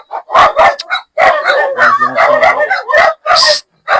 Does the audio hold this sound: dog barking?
yes